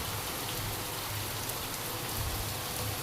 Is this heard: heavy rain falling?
yes